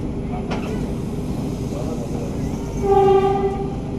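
A Vande Bharat Express pulls away after a station halt, its steady rumble joined near the end by a loud, sustained horn blast that sounds close and fades after a second.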